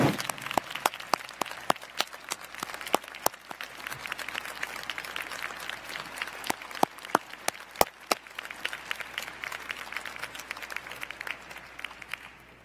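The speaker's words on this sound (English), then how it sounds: "give you a round of applause" Sustained round of applause from a standing crowd at a law school spring commencement ceremony, dense clapping continuing steadily for over twelve seconds with sharp individual claps standing out, no talk over it.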